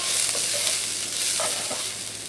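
Chopped small yellow onion cooking in olive oil for a lasagna sauce, a steady hissing sizzle with a few soft stirring clicks and scrapes, close and moderate in level, no talking.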